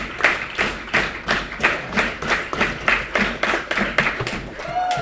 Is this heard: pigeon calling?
no